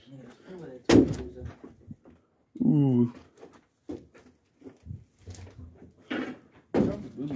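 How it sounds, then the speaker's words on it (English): A backstage door in an abandoned theater opens with a creaking, scraping groan and a couple of knocks, close and fairly loud, among people's voices and a short exclamation. "Hey guys, I'm about to open this backstage door."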